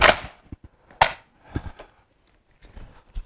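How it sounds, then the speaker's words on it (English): Bren MK2 light machine gun test firing outdoors, a few sharp separate gunshot cracks about a second apart, each with a short echo, amid quieter clicks and pauses. "So we're going to test fire and see how it goes."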